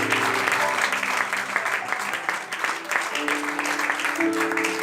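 A church congregation applauds together, dense sustained clapping that stays loud and steady throughout.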